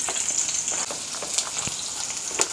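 Chopped onion sizzles in hot oil in a kadai with dried red chilies, giving a constant close, crackling hiss with scattered pops.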